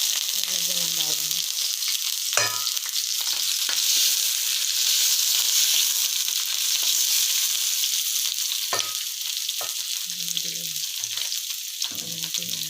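Garlic sizzles and crackles in a hot pan while it fries for Filipino garlic fried rice, a loud, continuous hiss broken by a few stirring scrapes and short bursts of talk.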